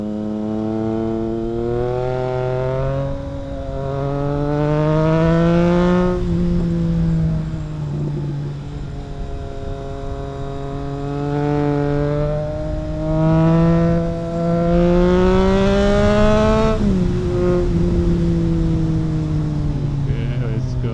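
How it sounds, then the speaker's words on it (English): Triumph Trident 660 motorcycle with a custom exhaust, engine droning loud and close as the throttle rises and falls, with pitch sweeps up and down and a drop-off when the throttle is released, wind rushing throughout. "I especially like the sound when I release the throttle."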